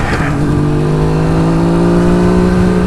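A Suzuki GT550 motorcycle engine drones steadily up a driveway, loud and close with a sustained even hum and no pauses.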